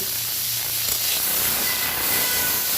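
Okra fries in hot oil with salt and turmeric in a kadai, giving off a steady, loud, continuous hiss and sizzle heard close up without a break.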